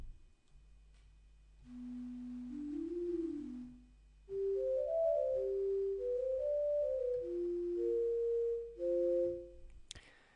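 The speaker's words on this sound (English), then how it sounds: "onto more of a flute sound like this one here" A synthesizer plays a slow melody of smooth, breathy flute-like notes, some gliding between pitches, over a faint low hum.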